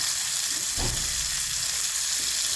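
Bitter gourd (ampalaya) going into a pan with garlic and tomato and sautéing, a steady close sizzle with a brief louder burst of frying as the vegetable is added, no talking.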